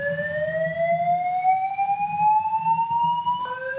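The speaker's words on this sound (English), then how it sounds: "sounds like maybe a Fire alarm?" A building fire alarm sounds during a committee meeting as a steady electronic tone that slowly rises in pitch, running continuously with faint room noise and brief voices underneath.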